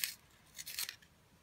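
A soft-cored Prismacolor Premier colored pencil is sharpened in a few quick, dry rasping scrapes, close and fairly quiet, with short pauses between strokes and no talking.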